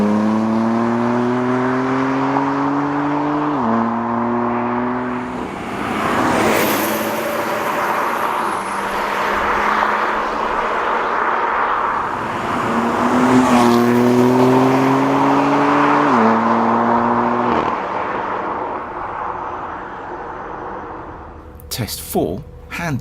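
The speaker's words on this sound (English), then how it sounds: "With both cars wide open in third then fourth gear, we'll let you make your own minds up on this one." A BMW M3 and an Alpina D3 accelerate wide open through third then fourth gear, engine notes rising steadily with clear drops at each upshift, loud and close with swelling passes, while a voice talks over them.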